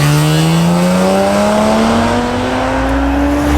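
A 1993 BMW M3 engine revving hard while driving, held near 4000 rpm, pitch climbing steadily as it accelerates through a gear, loud and close with no talk over it.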